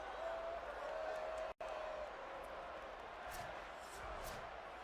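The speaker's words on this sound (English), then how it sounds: "This crowd trying to do its part to get inside the kicker's head" Steady stadium crowd roar in the College Football 27 video game during a field goal attempt, a constant broad wash of noise with a brief cut near the middle and a whistle-like tone early on.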